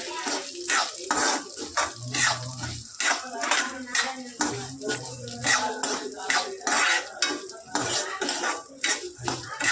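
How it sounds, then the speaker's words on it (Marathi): Cracked wheat lapsi being roasted and stirred in a pan, with a continuous rhythmic scraping and clinking of a spoon against the metal pan, repeated strokes about every second under a faint sizzle. "आता याच्यामध्येच आपण लापसी टाकून घेऊयात आणि मस्त भाजून घेऊयात"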